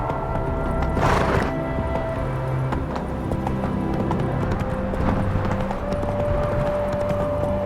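Roach the horse trotting in The Witcher 3, with steady close clip-clop hoofbeats throughout, a brief whinny-like burst near the start, and faint ambient tones in the background.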